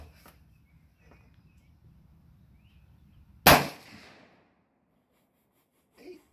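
A single sharp 350 Legend rifle shot from a cut-down short barrel cracks loud and close, then rings out briefly, with quiet background before it and a faint knock near the end.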